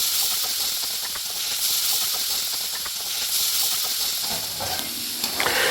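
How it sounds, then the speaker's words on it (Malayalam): Chopped tomatoes sauté in a hot pan, a close, loud continuous sizzle and hiss with faint stirring scrapes throughout. "അരിഞ്ഞ് റെഡിയാക്കി വെച്ചിരിക്കുന്ന തക്കാളിയും ഇതിൽ ചേർത്ത് നല്ലപോലെ വഴറ്റിയെടുക്കുക."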